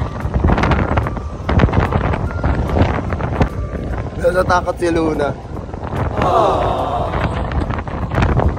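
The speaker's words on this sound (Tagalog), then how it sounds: "Sobrang hangin" Heavy wind buffets the microphone in loud, gusty rumbles while a person speaks briefly over it.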